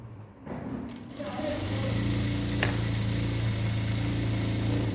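A sewing machine stitches lining cloth onto a blouse with a half-inch seam, starting up after a short pause and then running in a steady, even whir.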